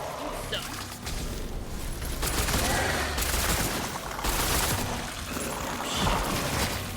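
Gunfire in the survival horror game Cronos: The New Dawn, shots rattling in close bursts over a busy, dense game soundscape with a voice talking throughout.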